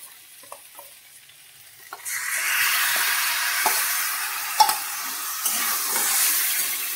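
A paste of cashews, melon seeds, mango and sour yogurt goes into a hot frying pan, starting as a quiet bubbling and jumping into loud, steady sizzling with scattered clicks and scrapes of stirring.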